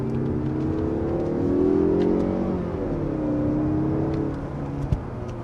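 2022 Mazda 3 Turbo accelerating in sport mode with paddle-shifted gears, engine revs rising and falling through shifts, heard from inside the cabin at a steady moderate level without talk.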